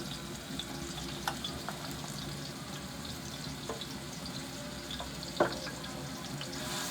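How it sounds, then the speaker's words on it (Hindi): Quiet, steady sizzling of mixed vegetables frying lightly in oil in a pan, with a few faint clicks and stirring knocks. "हल्का हल्का सा फ्राई कर लेते हैं।"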